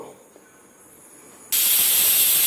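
A pressure cooker cooking chicken curry suddenly lets out its whistle, a loud, sharp steam hiss that bursts in after a quiet stretch and holds steady to the end.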